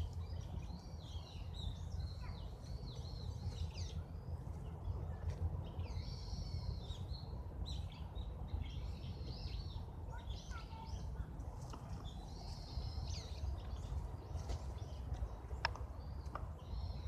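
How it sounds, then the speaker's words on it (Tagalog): Many birds chirping and calling outdoors in Odaiba, Tokyo, a faint, repeated high twittering over a constant low rumble of wind and distant background noise. "ang daming ibon dito"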